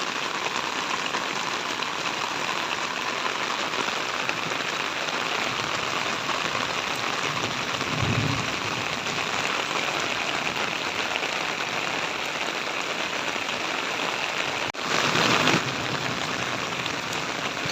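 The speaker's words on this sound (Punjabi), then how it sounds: "ਬਾਹਰ ਦੇਖਦੇ ਜਾ ਕੇ ਆਪਾਂ ਮੀਂਹ ਬਹੁਤ ਜ਼ਿਆਦਾ ਹੈ" Heavy rain pours down in a dense, steady hiss, unbroken and loud throughout, with a brief low rumble partway through and a short burst of louder splashing near the end.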